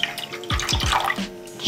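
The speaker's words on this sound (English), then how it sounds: "I'm just going to add in half a can of water" Half a can of water poured into thick coconut milk in a pan for a vegan Thai green curry: a brief, close splashing glug with a few gurgling bursts.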